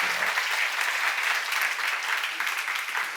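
A church congregation applauds during a Korean sermon seminar, a full, steady burst of many hands clapping throughout.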